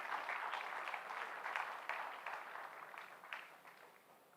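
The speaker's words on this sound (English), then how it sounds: "Please give him a big round of applause." Audience at a college graduation day ceremony applauding the chief guest, steady dense clapping from a large crowd that slowly thins toward the end, somewhat distant and faint.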